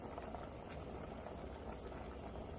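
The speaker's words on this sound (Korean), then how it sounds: "자, 이렇게 해서 또 20분을 더 끓여줍니다." A pot of broth simmers on the stove as stock for kimchi-making. A continuous, even bubbling and seething holds at a soft, steady level throughout, with no talk.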